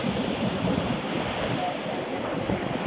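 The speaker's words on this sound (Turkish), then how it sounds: "Dalgalar kırılıyor açıkta." Ocean waves breaking offshore at an empty beach, heard as a continuous wash of surf roar mixed with wind buffeting the microphone, steady and fairly loud throughout.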